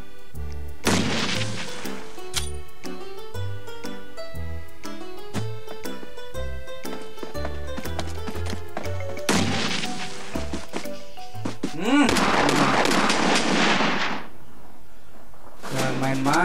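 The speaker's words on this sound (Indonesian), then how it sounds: "Jangan main-main sama shotgun kocok, ya kan?" Pump shotgun blasts fire in a PUBG Mobile arcade quick match. A few loud, broad booms punch through a steady backdrop of game music.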